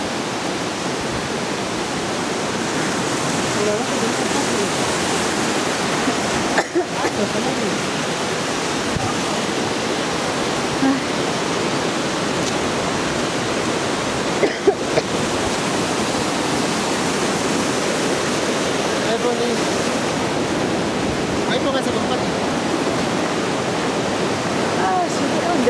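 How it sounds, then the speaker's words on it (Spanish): Water rushes and splashes steadily in the thermal baths at Machu Picchu, a dense constant wash like a stream or spout pouring into a pool, loud and unbroken throughout. "hemos entrado a los baños termales de Machu Picchu"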